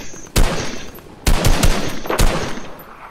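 Gunfire in Fortnite sounds in three sharp bursts of shots, loud and close with short gaps between them, and no talking.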